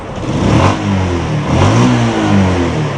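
A rebuilt older car engine is revved in several smooth rising and falling pulls, loud and close with a steady mechanical tone and no talking.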